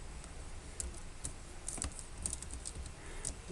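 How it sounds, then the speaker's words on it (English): Soft, quick keystrokes patter on a computer keyboard in an irregular run, faint and close, with no voices over it. "Let me type this out."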